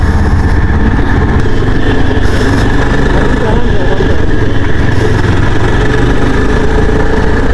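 A Yezdi Adventure motorcycle engine pulls away under acceleration, a loud, steady, rumbling drone that fills the whole clip with a dense mid-low growl and little variation.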